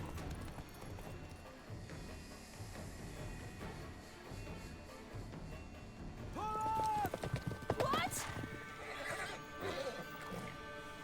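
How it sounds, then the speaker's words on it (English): Horse hooves clattering at a gallop in The Witcher 3, with whinnies and neighs over a busy game soundscape, growing louder and denser toward the end. "el caballo este corre como la mierda"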